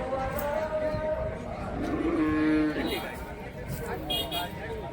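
Cattle at the busy Yavat livestock market give a single drawn-out moo near the middle, rising out of dense crowd chatter and nearby talking.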